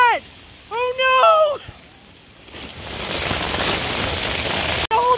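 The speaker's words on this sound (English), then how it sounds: "It's now pouring rain!" A voice exclaims briefly, then a dense, steady hiss of heavy thunder-shower rain pours down on Coleman tents, loud and continuous, with another short voice near the end.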